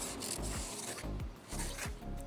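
Rough, rasping scrubbing strokes repeat back and forth, a coarse sponge dragged hard over a car wheel at close range, fairly quiet.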